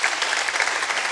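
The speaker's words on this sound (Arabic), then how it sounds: "نحب نصفقوا عليهم تصفيق قوية برشا" A TV studio audience claps strongly and steadily, a dense, loud burst of applause filling the whole moment without pause.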